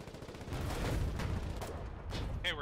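Gunfire in the Foxhole war video game forms a dense, steady rattle of shots and distant booms throughout, moderately loud with a continuous battlefield rumble.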